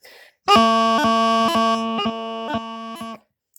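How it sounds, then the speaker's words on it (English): A reedy practice chanter holds a steady note, broken about every half second by short, crisp grace-note chips, played alone and close. "We want a little chip, chip, chip type of sound. So we want it to sound like this."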